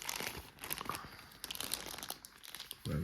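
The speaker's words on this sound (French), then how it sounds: "tout est encore dans le plastique parce que je viens de la recevoir. Et on va la déballer ensemble." Plastic packaging around a new Radcliffe watch crinkles and crunches as it is unwrapped, a close, busy run of rustling and tearing bursts, followed by a brief low thump at the end.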